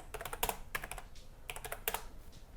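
Fingers tap out verbs on a computer keyboard, in quick bursts of close, crisp keystrokes separated by brief pauses, with no voices.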